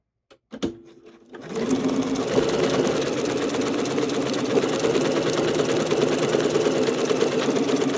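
After a couple of brief clicks and a short pause, a sewing machine starts up and runs a long, steady straight stitch gathering fabric, a loud close whirring hum with a fast even needle patter.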